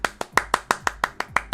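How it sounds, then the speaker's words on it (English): Ten sharp, evenly spaced hand claps from a single person, close and fairly loud, in a quick steady rhythm with no talking. "Round of applause for Ben."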